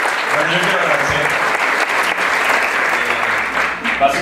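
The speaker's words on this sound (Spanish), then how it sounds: "un aplauso de verdad, están espectaculares" Dense, steady applause from a theatre audience at the debut of a stage company's show, loud and sustained for the whole stretch with a brief swell near the end.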